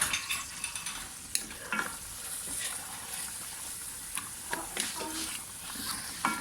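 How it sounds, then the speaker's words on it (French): Chicken with spices is stirred in a frying pan, giving soft scraping strokes and occasional utensil clicks over a quiet, steady sizzle, close and fairly faint. "Là, elle mélange."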